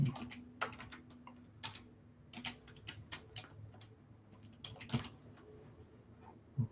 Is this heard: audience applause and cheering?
no